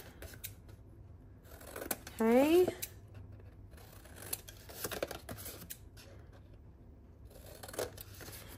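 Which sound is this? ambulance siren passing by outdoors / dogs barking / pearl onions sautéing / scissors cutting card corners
scissors cutting card corners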